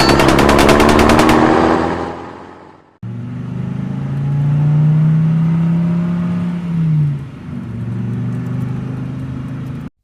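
Video game gunfire: a loud, rapid machine-gun burst for about three seconds, cut off abruptly, followed by a steady engine drone and whirring vehicle sound that rises and dips.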